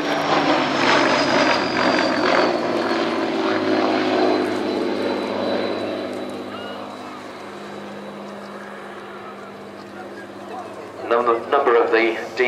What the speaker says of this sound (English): This particular aircraft, originally built by Bolton Paul under license to Hawkers in Wolverhampton.